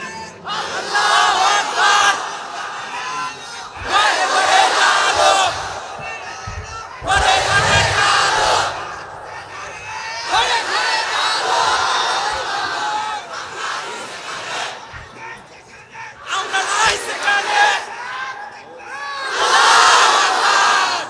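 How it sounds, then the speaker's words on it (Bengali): A large gathering at a Bangla Islamic religious sermon chants takbir in loud unison, roaring call-and-response bursts of a few seconds each, repeated about seven times with brief quieter gaps between. "দাঁড়িয়ে একটা তাকবীর দাও, যে কোনো একজন, জোরে সুরে দাও তাকবীর"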